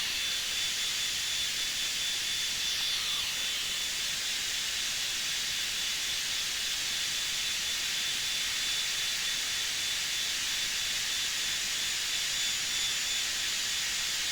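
Inside the cockpit of a Blue Angels jet as it accelerates and pulls its nose up, a constant, even roar and hiss of engine and airflow holds steady throughout with no voices.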